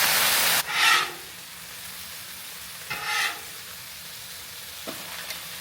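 Eggs frying in egg rings on a Blackstone griddle: a loud burst of sizzle at the start, then a quieter hiss with two more brief flare-ups and a light clink near the end.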